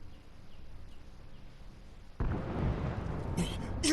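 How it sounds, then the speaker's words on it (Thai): Explosion in the video game Ghost of Tsushima bursts in suddenly after a quiet stretch, followed by a loud, sustained roar with crackling debris and a brief higher flare near the end. "เฮ้ยเสียงระเบิดฮะ มันบุกแล้วครับ"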